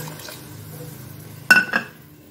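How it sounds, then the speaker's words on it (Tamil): Water poured from a vessel into a pan of sautéed peas cooking on the stove, a short splashing burst followed by a smaller second splash after quiet kitchen background. "இப்போ இதுக்கு தேவையான அளவுக்கு தண்ணி ஊற்றிக்குவோம்."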